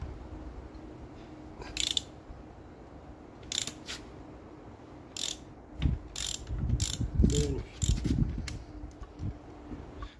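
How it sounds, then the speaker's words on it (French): A ratchet wrench loosens cylinder head bolts on a van engine, producing quick bursts of sharp clicking with pauses between them and heavier metallic clunks later as a bolt breaks free, with no talk. "je vais pouvoir desserrer maintenant les vis de culasse"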